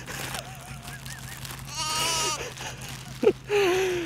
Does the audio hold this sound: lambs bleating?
yes